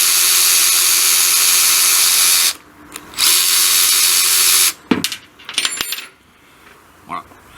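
A Makita DWR180Z 18V cordless ratchet whirs loudly as it turns a nut, stopping briefly and running again, then ending in a few clicks and metallic clatters.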